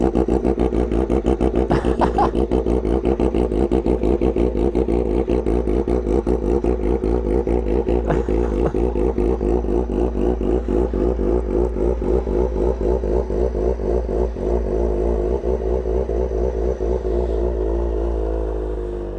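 Sportbikes fitted with titanium SC Project exhausts, an Aprilia, a Kawasaki ZX-10R and a Honda Fireblade, idle and rev close by, a loud throbbing, crackling drone that swells and settles over a long stretch without talk.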